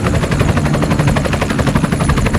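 Dense, steady rotor-like rumble with rapid chopping pulses, suggesting helicopters overhead amid continuous gunfire, loud and unbroken throughout.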